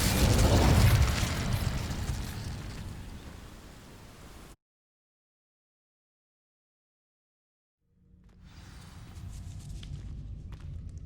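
A fire spell cast in Hogwarts Legacy bursts out loud and dense, then fades over about four seconds, followed by a few seconds of total silence before a lower rumbling ambience returns.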